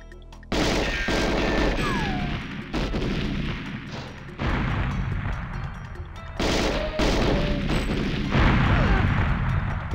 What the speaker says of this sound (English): Why would you walk into an explosion?